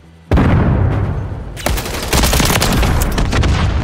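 Gunfire in the video game Call of Duty Modern Warfare 3 during Search and Destroy: a sudden loud burst of shots, a brief lull, then a dense rapid volley of close automatic fire.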